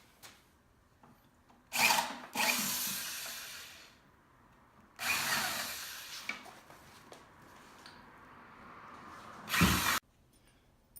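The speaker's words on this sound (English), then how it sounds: "I'm going to drill down just a little bit over the same holes I just did, so it'll countersink this" A power drill with a larger bit countersinking screw holes in wood, heard as separate loud whirring bursts of a few seconds each with quiet gaps between, close by with no talk.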